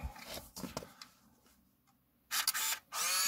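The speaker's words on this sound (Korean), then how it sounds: "셔터 눌러볼게요" Fujifilm DL-270 Zoom compact film camera firing its shutter, followed by the motorized film advance: a soft click, then louder, longer whirring bursts of winding, close and alone without talk.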